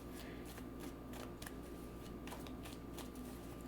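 Tarot cards are shuffled close up, a quiet run of quick riffling and sliding flicks repeated in short bursts, with no voices.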